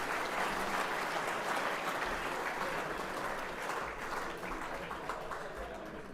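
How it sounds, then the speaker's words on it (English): Sustained applause from an awards-night audience at a football netball league medal presentation, a dense steady wash of clapping that holds for several seconds and eases slightly toward the end. "One final round of applause to James Below from the East Ringwood Footba"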